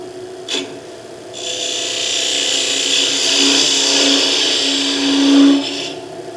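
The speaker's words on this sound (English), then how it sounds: "And again, let's take the gouge." A gouge cuts wood on a lathe while turning a hollow Christmas ornament, a steady rasping scrape that starts after a brief knock, swells and holds near and loud, then stops abruptly.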